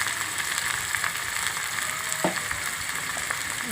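Tomato pieces and turmeric sizzle steadily in a hot pan, a constant dense frying hiss with a few soft clinks and stirring scrapes, close and without talk.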